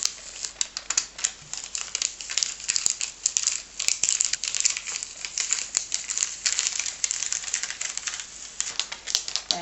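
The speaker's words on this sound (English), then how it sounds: "carefully peeling away the transfer film" Plastic transfer film is peeled slowly off iron-on diamante rhinestones, making a continuous close crinkling and crackling with dense tiny ticks and snaps for nearly ten seconds, with no voices.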